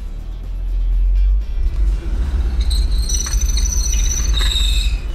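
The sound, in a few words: INEOS Grenadier accelerating on test rollers with traction control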